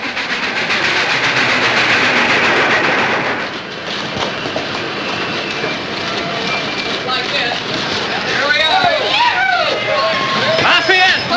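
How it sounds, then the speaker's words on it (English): A train rolls in along the rails with steady rumbling and clatter throughout, while a crowd of voices murmurs and several people call out under the noise. "The train's late."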